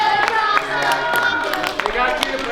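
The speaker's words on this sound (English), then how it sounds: "you guys need to give your parents a round of applause and thank them" Parents at a youth team's season-end party get a round of applause: scattered, light clapping running under a voice for a couple of seconds.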